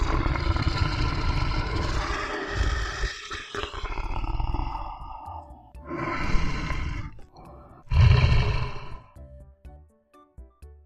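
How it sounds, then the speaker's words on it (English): A lion roars in long, loud, deep rumbling bursts, the first drawn out and fading, then two shorter grunting roars follow after brief pauses, close and alone without talk. "Lion."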